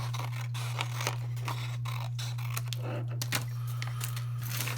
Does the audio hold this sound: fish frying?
no